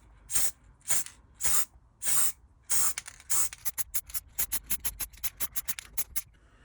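Aerosol spray paint bursts hiss in a row as a top coat goes onto a diecast model car: several longer blasts at first, then a quick series of short, sharp puffs, close by.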